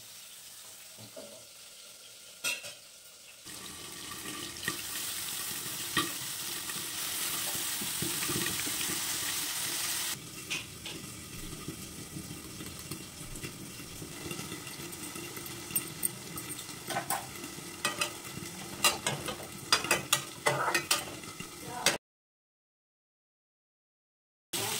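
Pointed gourd and spinach fry in a pan, giving a steady, moderately quiet sizzle with small crackles and scrapes that carries on for about twenty seconds before cutting to silence.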